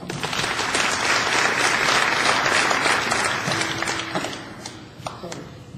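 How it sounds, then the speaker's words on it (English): Banquet audience at a high school boys basketball awards dinner applauding a player, steady dense clapping that holds for several seconds and then thins out, with faint voices underneath. "Round of applause."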